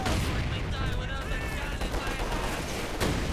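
Dense gunfire and barrage explosions from a Company of Heroes 2 battle, with an MG42 machine gun under fire, crackling continuously at steady loudness beneath a commentator's voice.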